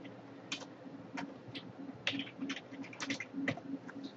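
Typing on a computer keyboard, a quick irregular run of light clicking keystrokes, close and fairly faint over a quiet background hum.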